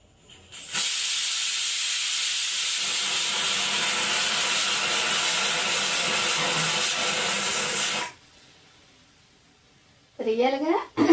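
A pressure cooker holding lentils froths over, giving a loud, steady steam hiss for about seven seconds before cutting off. A voice speaks briefly afterward.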